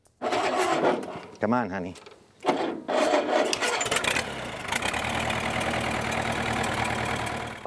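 A 1952 Minneapolis-Moline BF tractor engine cranks in rough bursts, then catches and settles into a steady, rumbling run, with a person speaking briefly near the start.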